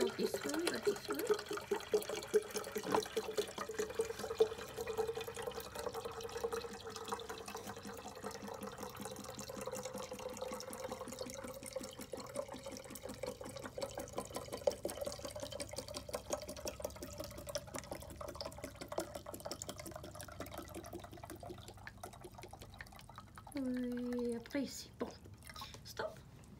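Water poured into a Hydrobreath device during setup, a long, steady trickle running for about twenty-five seconds with a faint tonal ring, under quiet talk and ending with a short clatter.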